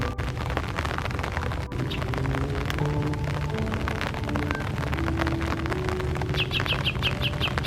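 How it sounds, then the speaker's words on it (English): A yellow-breasted chat sings from a tree in a rainy, foggy park at dawn, short repeated chirps standing out near the end over steady rain patter and soft lower bird calls. "I hear a little yellow-breasted chat in that area"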